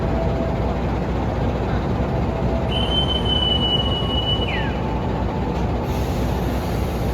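The Malabar passenger train pulls out of Malang station, a steady loud rumble of rolling wheels and cars with a brief high wheel squeal partway through, heard from on board.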